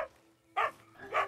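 A dog barks in the video game Red Dead Online, two short sharp barks close by, separated by a brief pause, with no talking.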